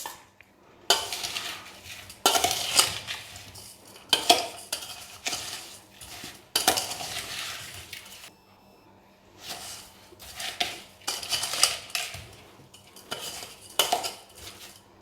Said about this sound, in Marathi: हे आवळे आपण त्यात सरळ टाकून घेतोय साखरेच्या आणि गुळामध्ये, आणि ते आपल्याला मिक्स करून घ्यायचे आहेत